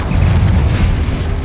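A loud, deep explosive boom from the Confringo blast spell in Hogwarts Legacy, a dense rumbling burst close up that fills the short moment.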